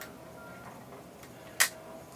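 A 110 film camera gives a faint tick, then one sharp, close shutter click, set against quiet room tone.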